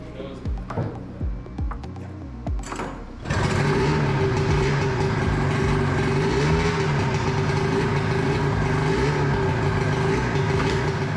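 An early-1980s Yamaha Exciter 340 snowmobile engine, swapped into a jet jon boat, coughs and catches after a few cranking attempts, then settles into a loud, steady idle.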